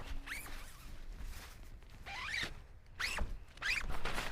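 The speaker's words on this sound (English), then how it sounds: "the doors with the zips are really good. These are KYY zips and they're not snagging" A KYY zipper on the door of a Naturehike Cloud Peak 2 tent rasps open and closed in several quick, close strokes, with faint rustling of the tent fabric between pulls.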